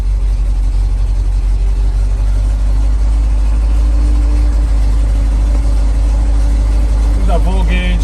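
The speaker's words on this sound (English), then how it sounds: "She's idling without any choke on right now" A GMC 7000 boom truck's 366 big-block engine idles steadily with no choke, a loud constant low rumble close by that holds for several seconds before a brief whine near the end.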